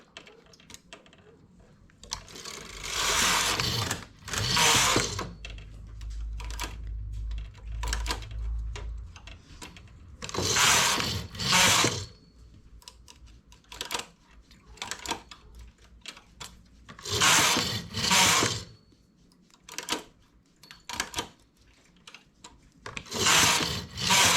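A knitting machine carriage working a V-neck finishing stitch is pushed across the needle bed in repeated bursts, each sweep a loud clattering rasp, separated by quieter stretches of small clicks and handling.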